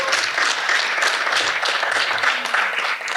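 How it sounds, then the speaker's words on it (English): Audience applause at a roundtable session of a cultural festival, a steady wash of many hands clapping close and fairly loud, unbroken for a few seconds. "We give a round of applause"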